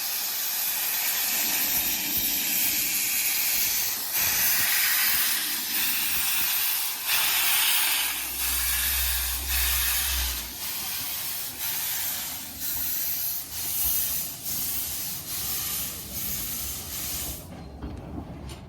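Steam locomotive Sir Haydn, in Railway Series livery, pulls out of Wharf Station on the Talyllyn Railway in Wales with a loud continuous steam hiss and rhythmic chuffing beats, with a low rumble partway through.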